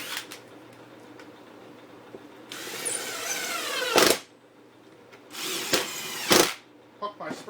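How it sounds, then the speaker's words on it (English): A Kreg Jig foot clamp gets its screws driven back in, giving several short bursts of a power driver whirring between quieter handling noises, close and moderately loud. "and then I just put these screws back in."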